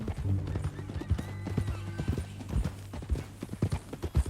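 Horse hooves clip-clop at a steady walking pace in the Red Dead Redemption 2 game world, the clopping fairly close, with a low background hum and a little indistinct speech.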